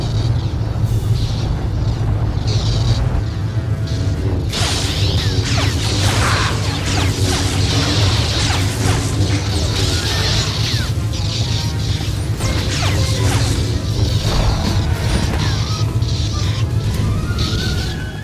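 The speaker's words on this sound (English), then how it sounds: "it doesn't look like he's as successful deflecting flamethrowers as he is blaster bolts" A flamethrower roars over a lightsaber-wielding enemy in a Star Wars game, a continuous loud rushing blast with crackles and swishes layered over a steady low hum.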